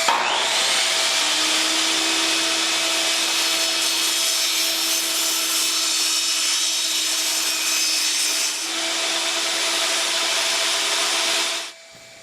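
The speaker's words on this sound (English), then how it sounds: "I started by setting up the table saw to cut the longest side of the form" A table saw runs steadily through plywood, a continuous loud whirring cut with a tonal hum that holds for about eleven seconds, changes pitch slightly near the end, then stops abruptly.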